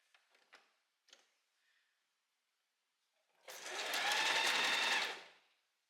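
A sewing machine stitches lace onto a top in one loud burst of about a second and a half. A few soft clicks and handling taps come first, in an otherwise quiet room.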